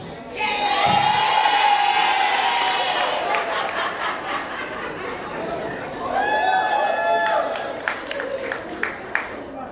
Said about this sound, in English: Round of applause once again for that category